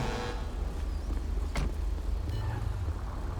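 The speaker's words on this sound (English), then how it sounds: "Let me move my car." Car in GTA V's LSPDFR police mod being moved, a steady low engine rumble with a brief whoosh midway, close and continuous with no talk.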